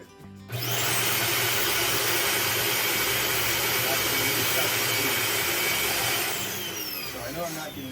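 A Dyson DC40 Animal upright vacuum cleaner with a suction fault switches on and roars with a loud, steady high-pitched whine, holding for several seconds before easing off slightly near the end.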